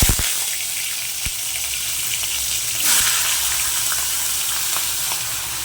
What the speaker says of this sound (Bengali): তো মাছের মাথা ভাজবে বলে তেল দিয়ে দিলাম, তেলটা গরম হলেই দিয়ে দেবো।